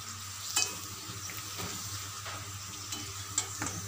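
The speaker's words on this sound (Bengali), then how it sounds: "আর ফুচকাগুলো দিয়ে অনবরত নাড়তে হবে।" Phuchka puris fry in hot oil while being stirred constantly, a steady close sizzle with soft scraping strokes and a few sharp pops.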